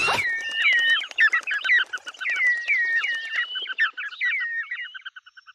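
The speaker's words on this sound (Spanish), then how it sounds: "Como esos pajaritos de fondo" Small birds chirp and trill in quick, overlapping bursts, bright and fairly close, continuing steadily before trailing off into scattered faint notes.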